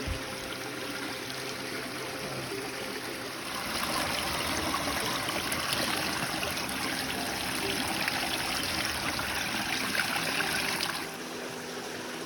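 Stream water pouring out of a pipe beneath a Jeep road on a southern Virginia stretch of the Appalachian Trail, a steady close rushing splash that swells louder midway, then eases back.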